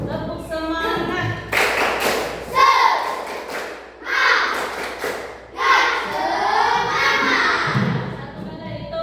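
A group of children and adults claps a short rhythmic spirit clap together in a classroom, the bursts of claps loud and close, with an adult voice talking and calling out between them.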